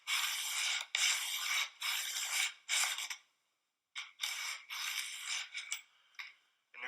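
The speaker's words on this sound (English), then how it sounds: "grab your Vicks honing stone, place it on the toe of the skate, and apply medium pressure as you go back and forth" A honing stone is rubbed back and forth along the toe of an ice skate blade, a close, dry rasping scrape in several even strokes with brief pauses between them.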